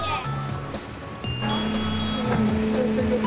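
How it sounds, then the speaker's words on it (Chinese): A garbage truck plays its melody in steady sustained tones, with voices talking over it throughout. "是什么声音？垃圾车。"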